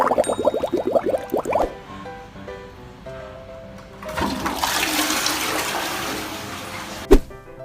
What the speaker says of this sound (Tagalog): Trip naman ng pusang ito ang tubig sa inidoro.